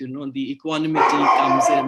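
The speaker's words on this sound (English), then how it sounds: "You can hear my pet dog also happily barking" A pet dog barks near a person speaking over an online call, with sharp bark bursts mixed into and following the talk.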